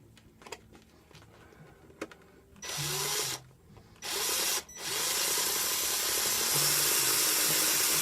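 A power drill with a bit bores through an RC car's plastic body, whirring in three bursts, two short and then a longer sustained run, after a few faint handling clicks.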